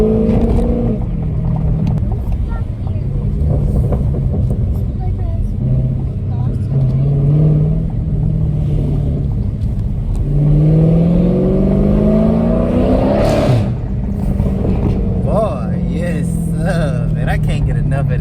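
A Lamborghini Urus with a mid muffler delete revs hard and takes off, its engine note rising in loud sweeps with a deep rumble throughout, while people talk over it.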